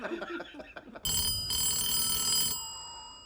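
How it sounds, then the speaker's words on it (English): A telephone rings loudly in a house, its bright electronic trill beginning abruptly after quieter background sounds and sustaining for about a second and a half, then breaking briefly and resuming before fading out. "Why you gotta be so freaked out when the phone rings?"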